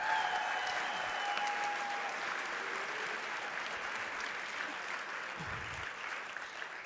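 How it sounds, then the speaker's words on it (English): Sustained applause from a gala audience at a colorectal cancer research fundraiser, steady dense clapping throughout with a faint tonal whistle early and no speech over it. "Huge round of applause for all of those folks"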